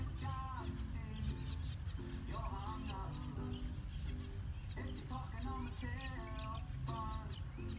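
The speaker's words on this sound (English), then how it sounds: "Local hangout for all the birds, honey eaters and finches." Repeated bright chirping and twittering calls from honeyeaters and finches over a constant background rumble in the Western Australian outback, the calls coming in short clustered bursts.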